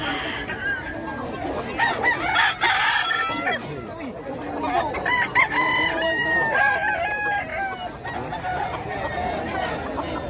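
Fighting roosters at a gamefowl farm in Bocaue, Bulacan crow repeatedly over a busy backdrop of clucking and other fowl, with faint people's chatter underneath.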